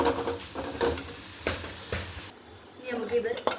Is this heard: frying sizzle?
yes